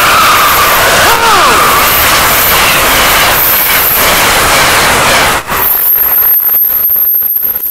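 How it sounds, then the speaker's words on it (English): A loud, close Amtrak passenger train arrives at a platform at Norwood, with steady roaring noise and a squealing brake whine early on, then the roar drops off into quieter rattling. "have an Amtrak train coming right up track number 4"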